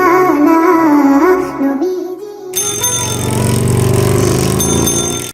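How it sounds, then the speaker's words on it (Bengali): An electronic calling bell at a home's door rings with a bright, tonal chime pattern, loud and close, its tune shifting partway through. "বিকেলবেলা মাদ্রাসা ছুটি হলে ফাতেমা বাড়ি ফিরে আসে এবং কলিং বেল চাপে।"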